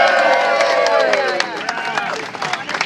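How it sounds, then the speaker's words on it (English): Outdoor protest crowd applauding and cheering for Daniel Ellsberg, a loud whoop and shouting voices over steady clapping that thins out toward the end. "A big round of applause for Daniel Ellsberg!"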